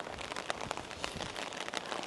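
Steady rain falling during a winter trip in Nagano, Japan, a soft, continuous patter with scattered drop taps, faint throughout.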